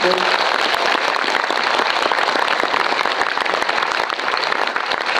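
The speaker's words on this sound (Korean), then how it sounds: "이번 행사를 위해 준비해 주신 황정민 배우님께 박수 좀 부탁드릴게요" Cinema audience applauding actor Hwang Jung-min at a Lotte Cinema Star Chair event, a dense, continuous wash of clapping from a large crowd that holds steady from start to finish.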